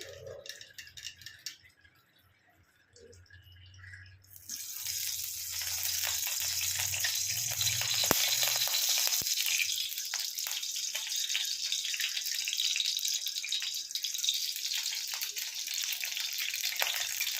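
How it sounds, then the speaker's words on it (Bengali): Ghee sizzling and spluttering in a hot kadai after water droplets hit it, a loud steady crackling hiss that starts abruptly after a few seconds of quiet handling noises and continues throughout. "এই ছোট চামচে এই 4 চামচ মতন ঘি দিয়ে দিলাম। ওরা একটু জল কোথাও থেকেও পড়েছে, এই জন্য চিবির করছে"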